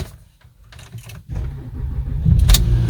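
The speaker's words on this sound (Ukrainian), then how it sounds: "І машинка, в принципі, ну майже з півтичка завелася." A Volkswagen car's ignition clicks on, then the engine cranks and starts in one short attempt, rising into a loud, close, steady idle.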